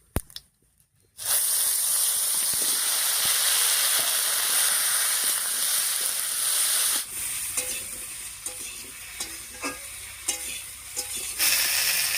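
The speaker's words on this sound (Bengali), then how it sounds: "এবারে কেটে রাখা ফুলকপি, আলু আর বেগুনটা দিয়ে দিচ্ছি।" Cut cauliflower, potato and eggplant drop into hot oil seasoned with whole cumin and bay leaf and set off a loud, steady sizzle close by, which eases to a lower crackle with scattered pops and stirring.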